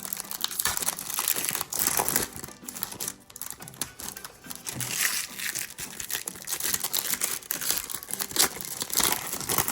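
Foil Topps Chrome trading card packs being torn open one after another, a steady stream of close, busy crinkling, ripping and crackling handling noise with no talk.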